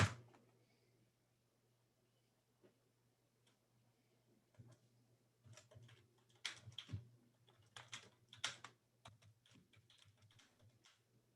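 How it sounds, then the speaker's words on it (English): Typing on a computer keyboard, scattered soft keystrokes at first, then quicker, louder clusters of clicks over a low steady hum. "I'm typing it up now"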